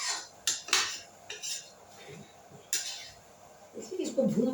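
Soya chunks roasting in a pan as a metal spoon stirs them, giving sharp clinks and scrapes against the pan, with a faint sizzle and a low voice murmuring toward the end.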